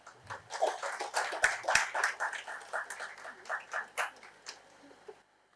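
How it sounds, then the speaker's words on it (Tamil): An audience at a Tamil literary talk claps for the speaker, a patchy run of hand claps that swells and then thins out before stopping. "உங்களுடைய கைத்தட்டலுக்கு நன்றி"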